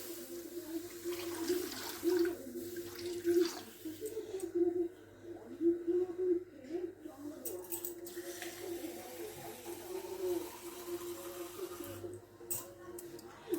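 About ten cups of water pour steadily into a hot kadai for papaya chutney, a faint, continuous splashing stream with a voice now and then.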